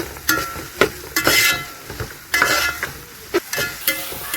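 Sliced onions sizzle in hot oil in a pan for a coconut-milk crab roast, stirred with repeated sharp scrapes and clanks of a spoon over steady frying hiss, close and fairly loud.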